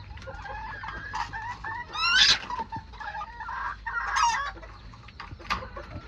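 A pair of spangled Old English Game bantam chickens in a barn cluck and call close by, with repeated short clucks and a couple of louder, sharper squawks standing out over a quiet background.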